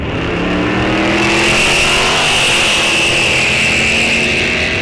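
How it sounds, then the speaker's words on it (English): Drag race cars, one of them a 1967 Chevrolet Nova, roar loudly and continuously as they launch at a raceway drag strip, with engine drone filling the whole stretch and no talk. "the stealth machine going up against Paul Holt, driving the 67 Chevrolet Nova"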